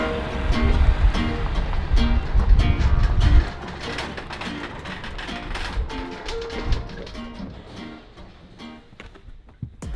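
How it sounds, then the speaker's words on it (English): A seed spreader by a backyard pond gives off a steady, close ratcheting, gear-driven clicking, loudest and densest over the first few seconds, then thinner and lighter until it nearly stops near the end. "Damn, that's a good seed spreader."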